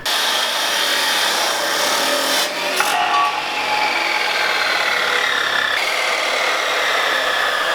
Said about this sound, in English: see my dream exhaust just get cut in half like that